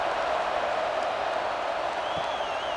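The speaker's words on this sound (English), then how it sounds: "this crowd is buzzing after that last score" A football stadium crowd at an Oregon Ducks vs. Oregon State Beavers college game keeps up a broad, steady roar of cheering and buzzing after a score, with no distinct peaks.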